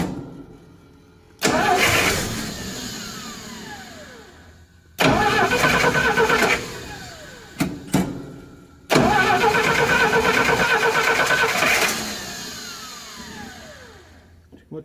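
A freshly valve-adjusted small engine cranks and catches three times in a row, each start bursting into a loud running roar that winds down before the next try, with a brief sputter between attempts.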